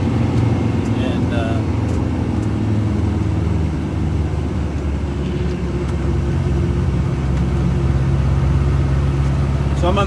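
An off-road buggy on 35-inch tires climbing a hill at Helderburg Farm, a loud, continuous engine rumble with low droning roar, close and steady throughout, with faint voices beneath.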